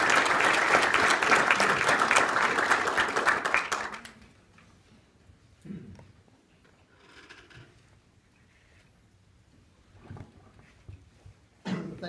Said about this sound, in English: Now, this is where you applaud.